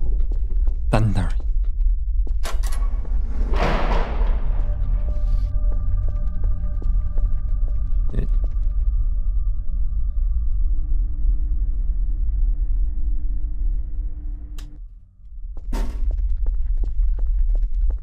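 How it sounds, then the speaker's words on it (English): Deep, sustained thunder rumbling through a Garry's Mod paranormal map, rolling low and steady for most of the stretch with a few sharper cracks and thuds early on and near the end, a brief dip before it swells again. "Thunder."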